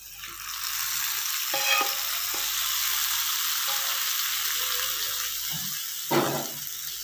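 Hot oil sizzles steadily as tempering is prepared for achari masoor dal, with a constant close frying hiss and a few light clinks of utensils over it.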